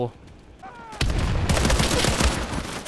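Gunfire in a free World War II shooter game: after a brief quiet lull, a loud, dense burst of rapid shots and booming rounds erupts and keeps going without a break.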